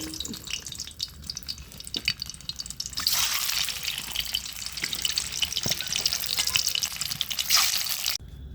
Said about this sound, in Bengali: এখন ডিমগুলো দিয়ে দিব তেলে।